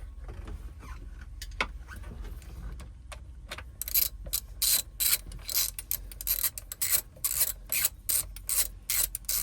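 Ratchet wrench tightening bolts on a 2008 Yamaha AR230 jet boat during a spark plug change, a rapid close clicking pawl rattle in repeated bursts after some faint handling noises, no talk.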